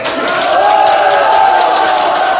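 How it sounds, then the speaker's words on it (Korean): Applause from an audience at a Korean political party candidacy announcement event, a steady dense wash of clapping and crowd noise sustained throughout, loud and close. "힘찬 박수"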